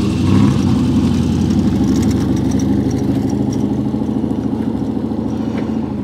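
Car engine idling and running close by outdoors at a classic car auction preview, a steady low rumble with slight revving that fades a little toward the end, alone without talk.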